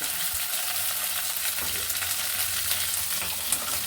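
Chopped onion and onion shoots tipped into hot oil already holding whole cumin and chillies, for a spicy puti fish curry; a steady, dense sizzle and crackle of frying runs the whole time with occasional stirring scrapes, close and fairly loud, no talking.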